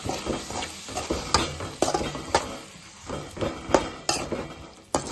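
A spoon stirs soy sauce and vinegar into egg noodles in a hot pan, scraping and clinking against the metal in uneven strokes over a steady sizzle.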